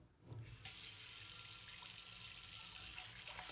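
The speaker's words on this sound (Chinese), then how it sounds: "然后我们把面粉水倒掉，再次用清水清洗干净。" Clean water runs steadily from a tap into a sink as an iron wok is rinsed, a continuous close splashing rush with no voices.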